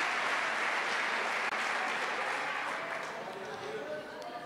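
A church congregation applauds in a full, steady wash of clapping that gradually softens, with a voice speaking faintly underneath.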